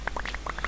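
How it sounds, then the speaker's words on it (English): Water is placed in Minecraft, a quick burst of bubbly, gurgling blips in rapid succession, close and clear with no talking. "I'm going to put the water in the wall."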